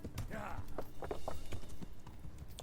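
Horse hooves in Kingdom Come: Deliverance clatter in a steady galloping rhythm at close range, mixed with game ambience and someone talking over it.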